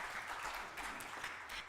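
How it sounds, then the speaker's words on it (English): Audience applause at a Sunday celebration church service, a short, steady patter of clapping from a modest crowd heard at moderate distance with no talk over it. "Little applause for Liston."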